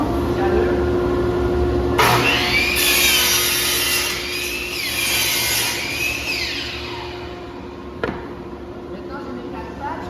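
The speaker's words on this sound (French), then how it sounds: "L'employé doit placer les planches de bois dans la scie à onglet." A miter saw cuts wooden planks in a workshop building custom industrial wooden crates: a loud whining cut rises and falls for several seconds, then stops, followed by a sharp knock, with steady machine hum underneath.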